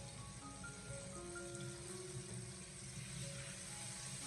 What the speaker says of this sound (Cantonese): 把它提前的煸炒一下，将南瓜也煸炒至两面微微的焦黄